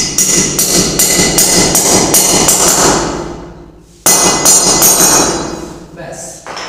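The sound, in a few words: hammering into the wall while mounting a tile laser level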